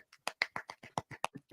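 A single person's soft golf clap: about ten light, quick hand claps in an even rhythm, quiet and close.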